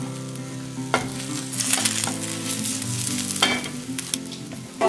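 An egg omelette cooking without spices sizzles steadily in a pan up close, with occasional sharp scraping and stirring knocks cutting through the continuous fry.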